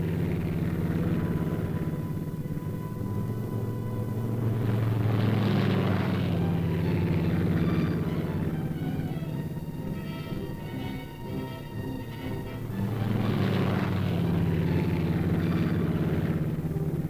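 Propeller aircraft drone overhead during an airdrop over the ice cap, with a steady engine hum that swells louder twice as planes pass close, then fades between passes.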